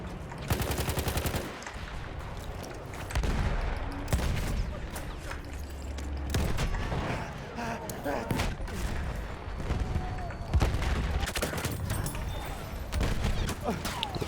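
Gunfire in the Battlefield 1 video game, with bursts of rapid automatic fire and scattered single shots spread across the stretch, loud and close, alternating with quieter gaps and occasional distant booms, while a player talks between bursts.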